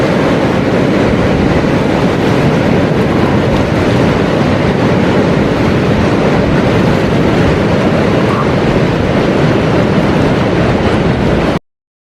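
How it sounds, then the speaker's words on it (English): The Rampart Rapids on the Mackenzie River, heard from a paddling canoe, make a loud, constant roar of rushing whitewater that stays unbroken throughout, with no voices. "These Rampart Rapids, a little more dramatic than I thought they were going to be."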